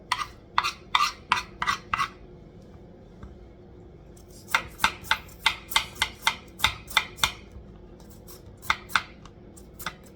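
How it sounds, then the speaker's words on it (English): Knife dicing potatoes into small cubes on a cutting board, brisk crisp chops in quick rhythmic bursts, a short pause, then another steady run of cuts, close and clear with no talking. "So now we're just dicing our potatoes. I'm going to cut them into little cubes."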